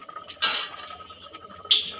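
Two sharp metallic clinks and scrapes of a utensil against a pan while bay leaf, whole garam masala and cumin are stirred in hot oil, a quiet pause between them.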